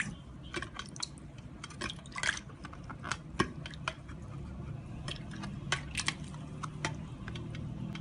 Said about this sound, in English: And we'll rinse our mouth.